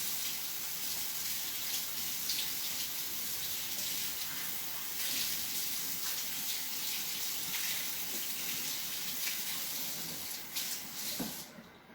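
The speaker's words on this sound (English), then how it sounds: "So I'm just going to rinse this really quick." Water runs steadily from a kitchen faucet as canned black beans are rinsed, a continuous close hiss and splash that stops abruptly at the end.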